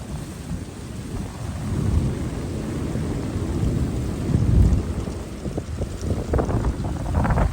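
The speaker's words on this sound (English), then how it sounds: "Yeah, it's super windy." Strong wind buffets the microphone outdoors on a walk near waves, with a continuous loud low roar and gusts that swell and fade throughout.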